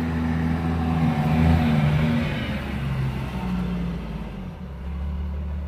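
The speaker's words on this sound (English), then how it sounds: "you speed up and trying to hit somebody, and that's a big old truck with 2 redneck boys in it" A big truck speeds up nearby, its engine roaring steadily with a low rumble that swells and then eases off slightly.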